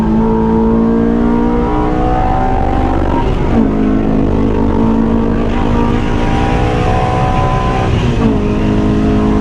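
Loud engine of a Honda S2000 (AP2) track car droning from inside the car as it drives a track, pitch climbing through the gears with brief drops at each shift.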